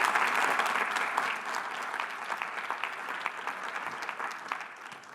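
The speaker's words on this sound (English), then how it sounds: "if you would give yourselves a round of applause" Convention audience at an equity panel applauding themselves: sustained, full crowd clapping that holds steady for several seconds and then tapers slightly, with no speech over it.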